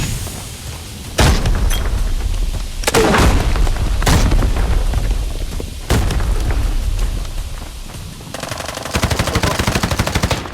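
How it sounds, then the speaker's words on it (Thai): Rapid bursts of gunfire and booming grenade blasts in the shooter game Arena Breakout, loud and repeated, with a rattling stretch of automatic fire near the end. "อุ้ยระเบิดวะเนี่ย"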